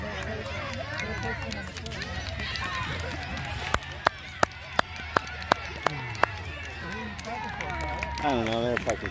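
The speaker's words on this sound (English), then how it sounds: "They're fucking clapping." Spectators at a youth soccer game clap a handful of times in a quick, slightly uneven run of sharp claps, set against steady crowd chatter and nearby talking.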